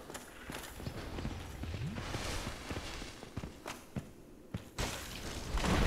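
Heavy hoofed stomping of a boar enemy in Dark Souls Remastered, rapid overlapping clopping thuds and impacts over a dense game soundscape, with a louder thump near the end.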